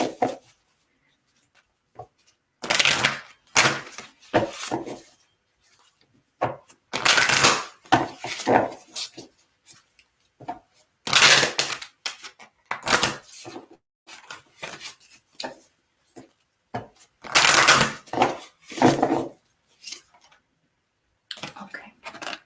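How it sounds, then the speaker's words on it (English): Oracle cards being shuffled by hand, in repeated bursts of brisk riffling and slapping separated by short pauses, close and fairly loud. "I'm going to shuffle and pull some oracle cards to help unpack this a little easier"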